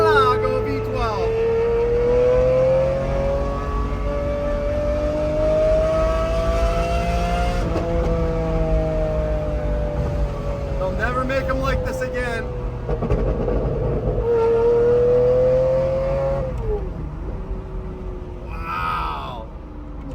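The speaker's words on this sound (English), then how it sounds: "listen to the sound of the Murcielago V12" A Lamborghini Murcielago V12 with an aftermarket exhaust system revs loudly and continuously, its pitch rising and falling through gear changes, with downshifts and burbles near the end; someone talks over the engine.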